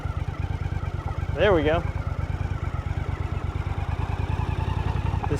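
A 1983 Honda CX650 Turbo motorcycle engine idles close by with a steady, low, even pulsing throughout, and someone briefly speaks over it early on.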